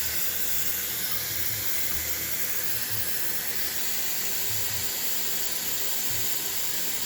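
Tap water runs into a sink as a steady, close hiss of flowing water that holds at an even level for several seconds, with no talking over it.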